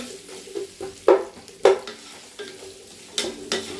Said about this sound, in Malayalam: എണ്ണ ചൂടായിട്ടാൽ നമുക്ക് ഇതിലേക്ക് ഇതാ അരിഞ്ഞ ഉള്ളിൽ ഇട്ട് കൊടുക്കാം